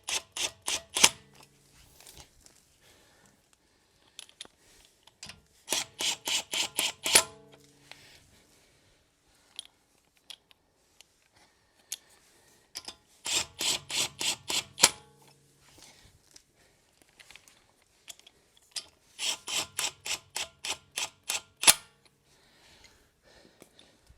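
Lug nuts on a Tesla wheel are run down in a star pattern, loud close ratcheting bursts of rapid clicks repeating in separated spells with quiet pauses between, no talk.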